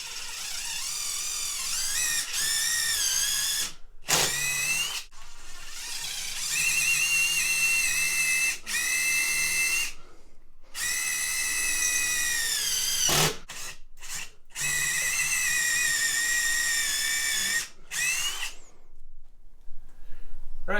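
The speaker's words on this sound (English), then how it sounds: "So I'm going to run an 11/64 drill up through there." A power drill with an 11/64 bit whines loudly through wood in several long bursts, pitch shifting under load, with short pauses between runs.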